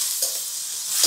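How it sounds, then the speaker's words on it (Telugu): Spices for tempering sizzle in hot oil, a bright hissing crackle with a couple of sharper bursts, close and steady, with no voices. "మనం వెయ్యగానే వస్తే చూసారా ఒక సౌండ్, తాలింపు స్మెల్ సుర్రనే"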